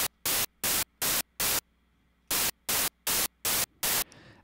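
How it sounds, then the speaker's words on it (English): Synthesizer firing short, sharp bursts of white noise: a run of five evenly spaced hissing gates, a pause, then another five, each loud and abrupt. "it sends a couple very quick gates of white noise"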